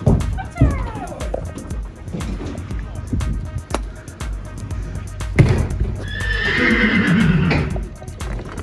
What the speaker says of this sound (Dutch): Braaf paard.